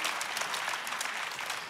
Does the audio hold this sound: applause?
yes